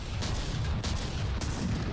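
Distant cannon fire rumbles in the From the Depths battleship game, a dense, steady roar of overlapping booms with a few sharper reports poking through.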